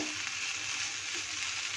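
Potato and pumpkin frying in a covered pan without added water, producing a soft, even sizzle that holds steady for a moment without any voices.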